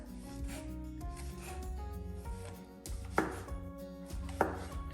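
A knife chops food on a board in quick, repeated strokes with a couple of sharper knocks, over steady background music.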